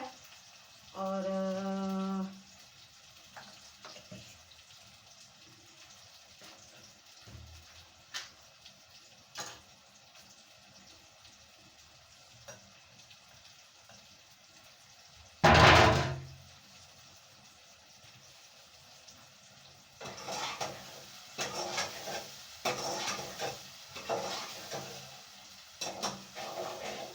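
Green beans fry in a pan with ginger, giving a soft, continuous sizzle. It is quiet and close, broken by a loud clatter midway and a burst of busier sizzling and stirring near the end.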